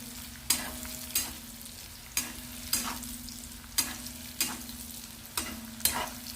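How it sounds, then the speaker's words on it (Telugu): Carrots and peas frying for semiya upma, with a steady sizzle under regular spoon stirs that scrape the pan about once a second, close up and with no talking. "ఇప్పుడు ఫ్రై కావాలి క్యారెట్"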